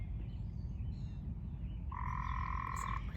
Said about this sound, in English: there's a tree frog again